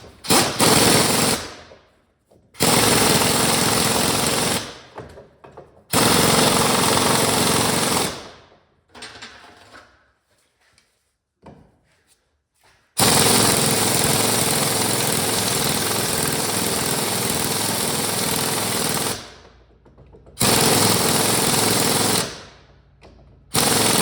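An impact gun rattles loudly in several hard bursts, each lasting a few seconds, with silent gaps between them, as it tightens the pinion nut on a Dana 44 differential during a regear.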